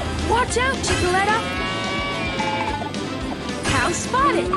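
Cartoonish cow moos from the Rescue Patrol Paw World mobile game ring out in several rising calls over busy game music and sound effects, with a character's voice talking across them.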